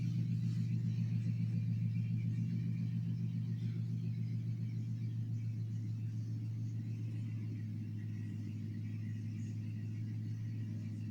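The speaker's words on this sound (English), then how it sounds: "Our neighbors have a very noisy truck." A neighbor's noisy truck starts up and runs nearby: a deep, steady engine rumble with a throbbing low hum that drones on and eases slightly in level over time, heard alone at a moderate distance.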